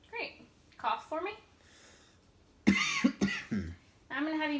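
A patient coughs on request during a clinical swallowing examination, giving a couple of close, sharp bursts between voiced sounds and a clinician's speech.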